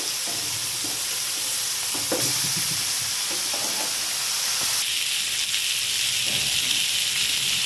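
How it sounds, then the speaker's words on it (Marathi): Pieces of hapnus fish fry in a pan Agri-Koli style, giving a steady close sizzle and hiss throughout with occasional soft stirring and turning clatters, no voices. "दुसरी बाजू पण फिशची आपली व्यवस्थित फ्राय करून झाली आहे"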